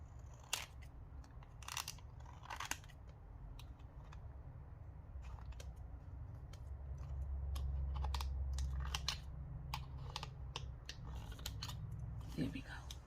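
Scissors trimming a card edge straight while making vellum tags, a series of quiet, close snips and paper rustles in an irregular rhythm, with soft talking in places.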